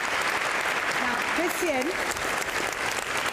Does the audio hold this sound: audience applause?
yes